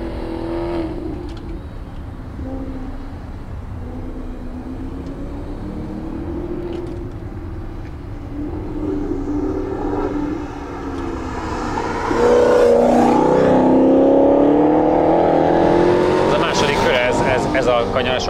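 A naturally aspirated Maserati GranTurismo engine pulls steadily on a race track, rising to a louder, higher rev near the end, with someone talking over it throughout.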